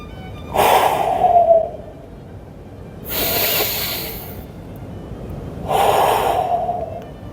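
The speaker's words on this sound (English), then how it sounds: "Take a couple of deep breaths." Three deep breaths during a spinal mobility exercise, each a loud, hissing inhale or exhale through the nose or mouth, separated by short quiet gaps, close and alone with no talk.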